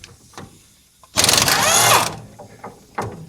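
A deep 13/16 socket on a tool works a bolt on the front brake of a 1965-66 Ford Thunderbird, a loud mechanical whirring burst of about a second amid faint clicks and clanks in a garage.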